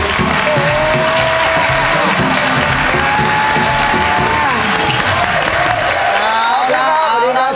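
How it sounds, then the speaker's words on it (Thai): A crowd applauds and cheers to welcome a performer onto a stage, loud continuous clapping with scattered whoops while an announcer's amplified voice carries over it. "ปรบมือต้อนรับกับ จะเด็ดเกาหลีแล้วครับ"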